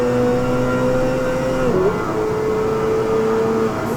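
Four-wheel drive GT300 league race cars charging from the start toward turn one, their engines droning loudly and steadily, with one whine dipping and shifting pitch midway as the pack roars on.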